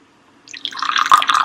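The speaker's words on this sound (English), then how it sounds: "I'm going to add a little bit of hot water" Hot water poured from a kettle onto saffron threads in a small bowl for a tagine, starting after a brief quiet moment and building into a steady close trickle and splash that continues to the end.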